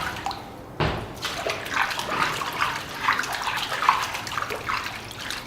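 Red-hot forged iron hook plunged into cold water at a heritage Christmas blacksmithing demonstration, giving a sudden burst at the start and then a sustained bubbling, sizzling hiss that rises and falls across the whole stretch, close and fairly loud.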